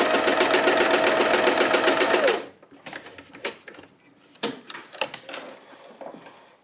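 A sewing machine free motion quilting a table runner runs in a loud, steady rapid whir for about two seconds, then stops abruptly, leaving quieter scattered clicks and handling noises.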